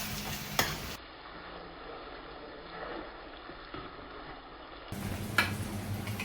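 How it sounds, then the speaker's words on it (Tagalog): Garlic and then tomato stirred in a hot pan for Filipino ginisang mungo, giving a soft, steady sizzle with occasional scrapes and clinks of a spoon against the pan, close by and without talk. "Isunod na ang bawang, haluin ng konti, at isunod na agad ang kamatis"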